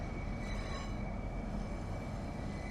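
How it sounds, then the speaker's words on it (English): HST train departing in the Train Sim World 3 video game, a steady low rumble of engine and rolling wheels with a faint high tone above it, continuous and with no talk. "HST's leaving as well by the looks of it."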